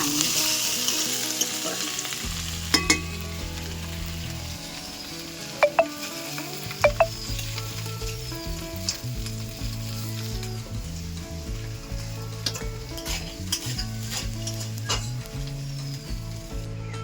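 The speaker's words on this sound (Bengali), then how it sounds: "মাছের মাথাটা আমি ভেজে নিয়েছি ভালো করে ভেঙে লাল লাল করে ভেঙে" Fish head frying in hot oil in a pan, a steady close sizzle running throughout, with a few sharp crackles and pops standing out near the middle.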